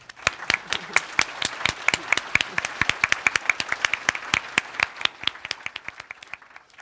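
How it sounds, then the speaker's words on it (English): Audience at a climate summit plenary applauding the panel, fairly sparse, distinct hand claps at a brisk irregular rhythm that thin out toward the end, fairly close and moderately loud. "I think our panel deserves a great round of applause"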